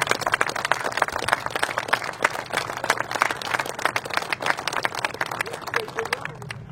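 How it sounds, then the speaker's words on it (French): An audience at a trade fair in Pineuilh claps for the volunteers, a dense, steady applause of many hands that carries on for several seconds and then trails off at the end. "Je voudrais que vous applaudissiez très très fort ce groupe de bénévoles qui a permis la réalisation de cet événement"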